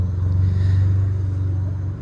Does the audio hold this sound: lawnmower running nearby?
yes